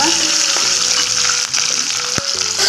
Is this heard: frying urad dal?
yes